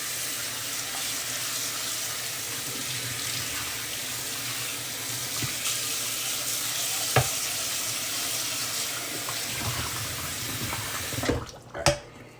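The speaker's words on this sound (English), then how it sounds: "And we're rinsing with hot water," Hot tap water runs steadily into a sink over vacuum-sealed salmon, a broad continuous hiss with a couple of brief clunks near the end as the flow stops.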